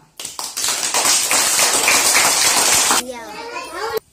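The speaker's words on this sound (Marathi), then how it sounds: "एकदा जोरदार टाळ्या वाजवा" Loud, steady clapping from a group of schoolchildren in a classroom, a dense burst lasting about three seconds before it stops abruptly, followed by a voice briefly speaking.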